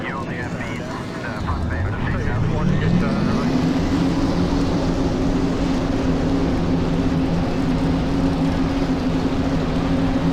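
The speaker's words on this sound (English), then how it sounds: "Drivers, start your engines." Multiple race car engines in a NASCAR Racing 2003 simulation at Las Vegas Motor Speedway fire up together after a quieter start, building into a loud, sustained drone with a rising pitch and a steady roar.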